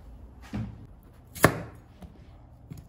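A knife chopping vegetables such as sweet potato, carrot or onion on a cutting board, a few separate thuds spaced irregularly, one sharp and loud, close with no voices.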